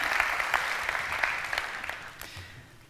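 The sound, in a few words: audience applause at an awards ceremony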